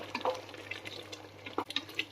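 Wheat semolina is stirred into water in a pot while making mutton biryani, giving soft, close wet scraping and a few light clinks and splashes over about two seconds.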